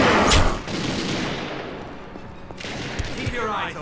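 Gunfire bursts in the video game The Darkness II, a sharp volley at the start and another near the end, with a voice speaking between the shots.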